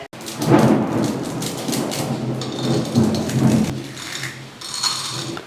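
Heavy rain pours steadily in Pondicherry while thunder rolls and rumbles through it, loud and close, with no voices.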